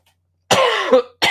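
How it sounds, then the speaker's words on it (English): A harsh, raspy cough burst lasting most of a second, followed by a second cough starting right after a short pause, loud and close. "the coughs are really kind of going at it this morning"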